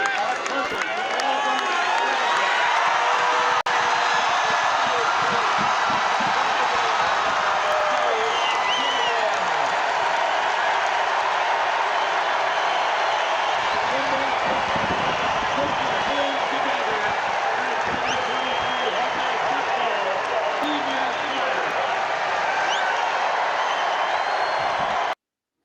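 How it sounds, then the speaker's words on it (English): Big stadium crowd roaring and cheering for Tory on senior day at a Big Ten football game, a steady dense wall of noise with scattered whoops and clapping throughout, loud and continuous. "Tory might have got the loudest fucking cheer."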